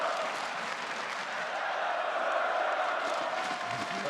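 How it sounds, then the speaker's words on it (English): A large esports arena crowd at an Immortals versus CLG playoff match cheers and chants in a dense, sustained roar, heard at a distance under a faint voice. "You can hear the crowd there"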